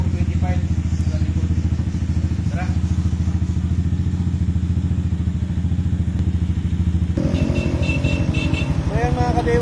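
A KRY 200 built as a supermoto, fitted with Flash tires on 350 by 425 Speed rims, runs steadily on a highway, its loud continuous engine drone with rhythmic thumping and clatter shifting in character near the end.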